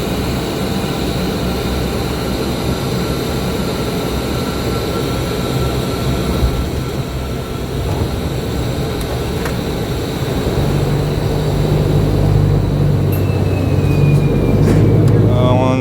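A steady, loud engine drone fills the cabin of an Atlantique 2 (ATL2) maritime patrol aircraft in flight over the Black Sea. The drone is unbroken and grows slightly stronger near the end.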